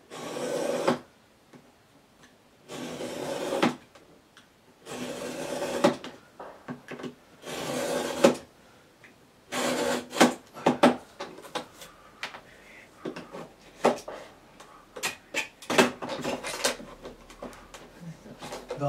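A craft knife is drawn along a ruler through MDF board, giving a series of loud, close, rasping scraping strokes in uneven bursts with short pauses between them.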